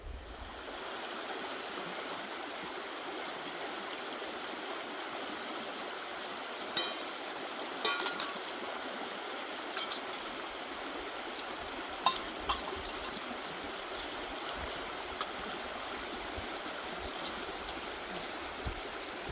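A river stream flows past a campsite on farmland, a soft steady wash of water with faint small ticks and splashes, distant and continuous with no talking.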